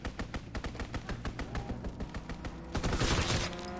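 A fighter plane strafing a target in a WWII video game, loud rapid rhythmic bursts of gunfire, about four shots per second, swelling into a heavier roar near the end.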